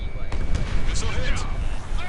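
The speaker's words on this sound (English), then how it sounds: "Missile hit." Missile hit explosion in the flight combat game Ace Combat 7, with an F-16 in the fight: a dense, rumbling blast that sounds close and fills the short clip, with a few sharp bursts and cockpit radio chatter around it.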